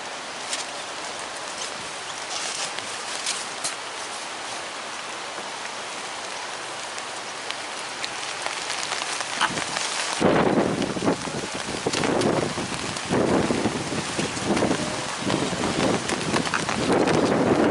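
Heavy rain falls on an outdoor cricket ground during a grade match. A steady hiss builds to a louder, denser downpour about halfway through, with gusty wind noise and no voices.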